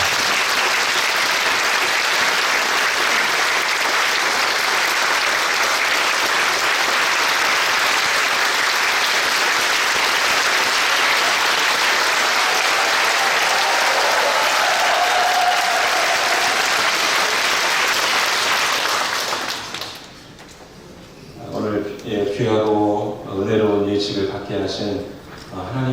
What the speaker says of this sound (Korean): 우레와 같은 박수로 맞이하겠습니다